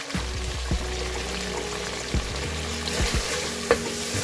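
Ground spices with turmeric, red chilli powder and roasted cumin frying in a pan, a close continuous sizzle with occasional clinks and scrapes of stirring.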